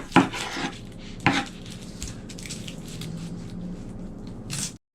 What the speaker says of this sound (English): I got the 2 end pieces cut off that yellow onion